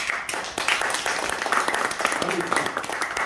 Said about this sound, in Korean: 박수 한 번 더 치셔주세요